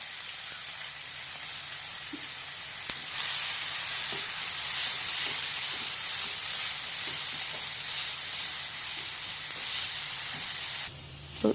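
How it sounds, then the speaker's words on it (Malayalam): Crushed, ground spice paste for squid thoran sautés in hot oil, giving a continuous close hissing sizzle with occasional soft stirring scrapes throughout, and a brief clatter near the end. "അതിലേക്ക് ചൂടായ എണ്ണ എണ്ണ ഒഴിച്ചു കൊടുത്തു അതിലേക്ക് നമ്മൾ അരച്ച് വച്ചേക്കുന്ന ചതച്ച് വച്ചേക്കുന്ന എല്ലാം കൂടെ അങ്ങോട്ട് ഇട്ട് ഒന്ന് വഴറ്റിയെടുക്കുകയാണേ"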